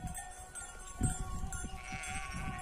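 Sheep on a farm where the flock is being sheared bleat faintly, with one short bleat standing out among a quiet, scattered mix of animal and outdoor noise; no one speaks.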